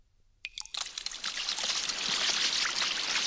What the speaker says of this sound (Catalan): En tira una gota a l'aigua de la banyera